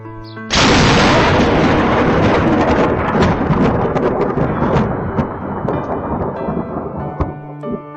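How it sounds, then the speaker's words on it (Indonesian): Lightning strikes the ground with a sudden loud crack, then a heavy rolling rumble of thunder that slowly fades over several seconds, with rain hissing throughout. "kamera keamanan menangkap petir yang tiba-tiba menghantam tanah."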